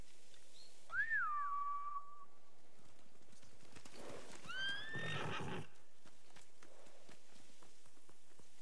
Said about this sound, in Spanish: Han espantado a los caballos